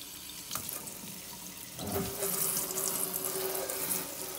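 Kitchen tap water runs steadily into a sink while thick asparagus spears are rinsed under it, the flow starting softer and swelling louder partway through, with no one talking.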